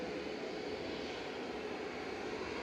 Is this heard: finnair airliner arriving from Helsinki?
yes